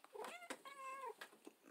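A cat meows several times in short, clear, nearby calls, with a drawn-out rising and falling meow in the middle and softer chirps around it, sounding close and fairly loud.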